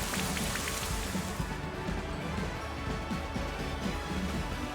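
Steady rain patters continuously in a Pokémon battle, a dense hiss of falling drops with a low rumble underneath, fairly faint and even throughout.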